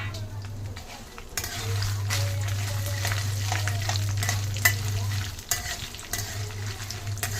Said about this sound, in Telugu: మిరపకాయలు వేయించండి